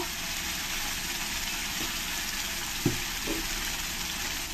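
Cashew, tomato and onion paste frying in a pan, a steady broadband sizzle with a few soft stirring knocks, with no talking.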